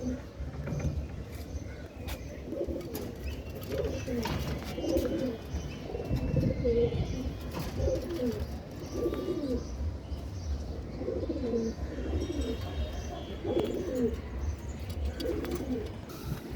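Pigeons coo in repeated soft, throaty phrases at close range, with faint chirps and rustling in a domestic loft in Bangladesh.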